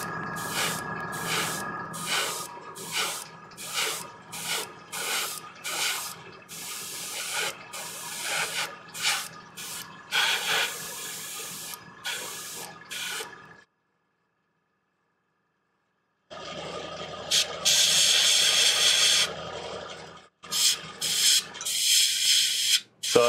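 An airbrush sprays paint onto a Warhammer Magnus the Red miniature in short hissing bursts, close and steady, with a long silent pause before spraying resumes.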